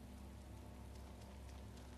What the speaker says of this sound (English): It is raining, which is going to help with our visibility.